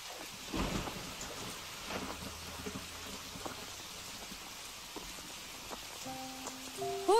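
Steady rain hisses in an animated Filipino drama, broken by a deep thunder crack early on and a few softer rumbles, with a faint musical tone near the end.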